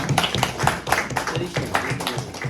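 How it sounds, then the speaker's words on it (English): An audience at a Rotary Foundation talk claps for contributing members, a dense burst of hand claps at close range, fairly loud and sustained over the short stretch. "Big clap for them."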